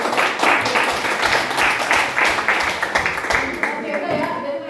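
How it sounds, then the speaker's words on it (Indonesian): A small group claps at a classroom presentation, with uneven, fairly close hand claps. The claps come in a loose rhythm and thin out toward the end, while voices talk over them. "tepuk tangan untuk mereka."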